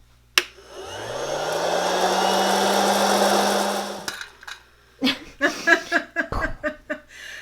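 IceTek hot air popcorn machine whirs as its fan spins up to a steady loud blowing roar, then cuts off abruptly; afterward come scattered clicks and clatters nearby.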